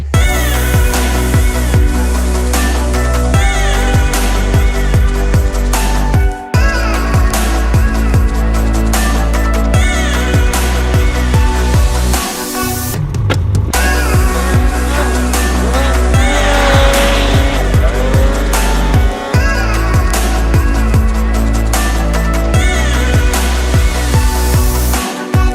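A 2022 Factory Turbo vehicle roars loudly through a ride with sustained engine drone, tire squeal and skidding, gear shifts marked by brief dips, with no talk over it.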